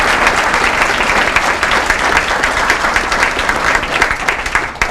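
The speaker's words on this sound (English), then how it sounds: "If we can give them a round of applause" An audience in a hall gives sustained, dense applause at a high school sports hall of fame induction ceremony, many hands clapping loudly and evenly throughout.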